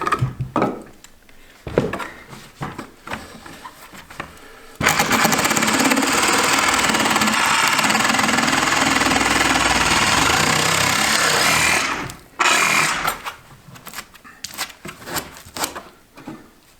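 A power tool trims the top of an insulation piece, a loud continuous grinding buzz lasting about seven seconds, with scattered handling knocks before and after.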